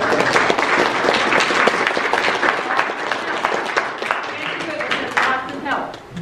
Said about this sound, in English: Beth, let's give Beth a round of applause.